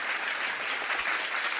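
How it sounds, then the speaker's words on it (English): Continuous applause from a crowd of about fifty people, thick and steady throughout, loud and close with no talking. "No laughing applause. The real one."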